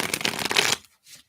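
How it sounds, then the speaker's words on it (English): A deck of tarot cards shuffled once in a quick riffle, a close, crisp flurry of flicking cards lasting under a second before a soft tap as the deck settles. "let's shuffle these up and get them recharged here"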